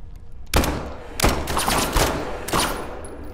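Gunfire in the tactical horror shooter SCP 5K: four loud, sharp bursts of shots in close succession, each with a ringing tail, against a low rumbling game background.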